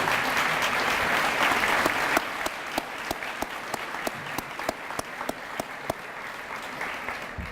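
Audience applause for foundation board members at a school-district recognition event, a dense round of clapping that thins after a couple of seconds into a few distinct, sharp claps continuing to the end.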